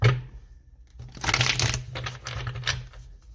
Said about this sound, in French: On va poser les 9 cartes.